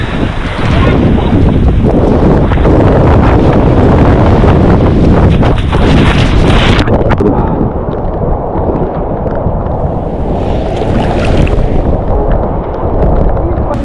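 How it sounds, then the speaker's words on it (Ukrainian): Strong wind roars across the microphone on a Miami ocean beach during rain, with surf beneath it. The loud, continuous buffeting never lets up. "а дощик з сильним вітром"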